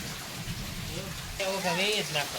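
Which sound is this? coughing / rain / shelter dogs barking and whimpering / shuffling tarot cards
rain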